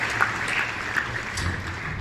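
A crowd applauds at a live gospel music gathering, a steady, moderately loud patter of clapping hands with a few sharper claps standing out.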